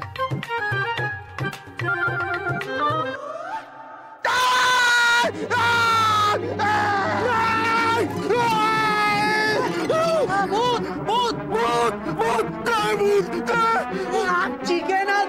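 A person lets out a sudden, loud scream of fright after thinking they have seen a ghost. It bursts in midway after quieter dramatic music, and the music swells under it and carries on afterwards.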